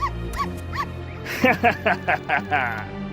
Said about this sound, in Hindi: ये कुत्ते की आवाज कहाँ से आ रही है?